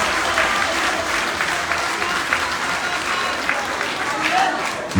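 An audience in Dakar applauds the honorary mayor Khalifa Ababakar Sall, a dense, continuous round of clapping with scattered voices underneath.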